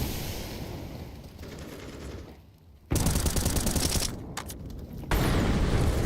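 Rapid gunfire bursts in a professional Counter-Strike 2 match, loud automatic fire that drops briefly then resumes in sharp surges, with no voices over it.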